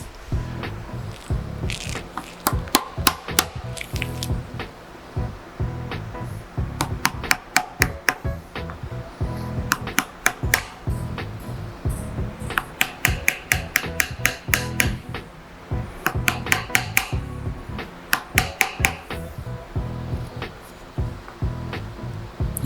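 A metal car part being notched by hand during a B5 S4 drift build, bursts of rapid sharp metallic clicks and scraping strokes repeating in clusters, loud and close, with no speech.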